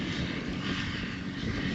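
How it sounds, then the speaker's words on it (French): A Yamaha WR 450 motorcycle engine drones at a steady, loud, continuous pitch out in the Australian outback, with no talking and no change in its sound. "Là ici j'ai une WR 450 Yamaha. Ça marche fort hein"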